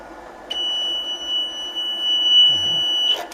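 A battery restorer's reverse-polarity protection alarm sounds when the clamps are attached to the battery terminals the wrong way round: a single steady high-pitched electronic tone that holds continuously for about two and a half seconds, close and clear.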